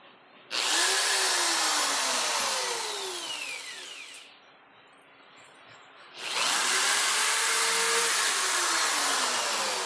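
A power drill whines loudly while boring a hole in a modified biogas stove burner, running steadily, easing off and pausing briefly, then revving back up at full speed, with no talking.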